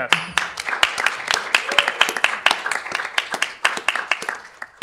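Audience applause at a technology and regulation panel event, a few seconds of steady clapping from a room, with a voice talking over it at times.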